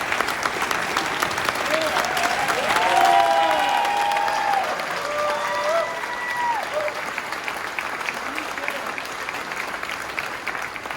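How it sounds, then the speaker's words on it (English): Sustained applause from the audience at the U.S. Astronaut Hall of Fame induction ceremony for astronaut scholarship recipients, a broad, steady clapping wash that peaks midway and continues with a few voices audible underneath. "Would you please give them a round of applause?"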